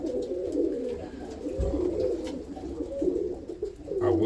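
Roller pigeons coo in a loft, soft overlapping low calls repeating throughout, close by, with a few faint rustles and no talk.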